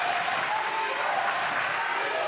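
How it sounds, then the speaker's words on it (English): A basketball crowd claps and cheers in a dense, continuous wash of applause during a championship-deciding game, loud and sustained with faint voices mixed in. "Crowd getting into it."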